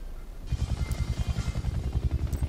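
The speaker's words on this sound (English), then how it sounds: "Oh wow, I got killed by a helicopter." A Huey helicopter in the Vietnam expansion of Battlefield Bad Company 2 thumps close and loud, its rotor beating in a rapid steady rhythm that fills the game's soundscape.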